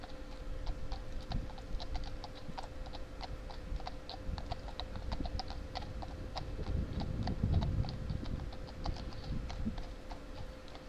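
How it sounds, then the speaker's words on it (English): Steady clip-clop of horse hooves on a hard street surface, a regular trotting rhythm over a busy outdoor background in St James's, London, fairly close. "Those horses again."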